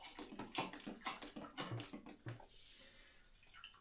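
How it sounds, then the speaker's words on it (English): Water drains out of an AquaPod water-storage bladder in a bathtub, a faint run of gurgling and sloshing bursts that settles into a quiet trickle near the end. "And the water drains for just a second."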